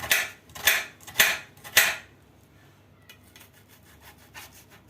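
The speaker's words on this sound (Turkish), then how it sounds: "Şimdi soğanları çok ince bir şekilde ve de birazcık bu gürültüyü alıştırarak size doğrayacağım." A knife finely cuts peeled onions on a board in four slow, rasping strokes, followed by fainter, lighter taps and scrapes.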